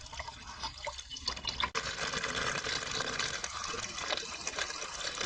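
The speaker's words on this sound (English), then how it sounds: "the water is finally coming out clear" Clear water flowing out of a car heater core after unclogging, a steady rushing, splashing stream that runs continuously at a close, even level.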